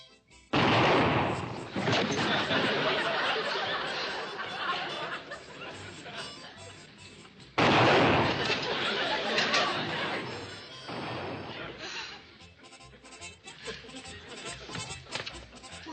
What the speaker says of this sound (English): Fire the shotgun.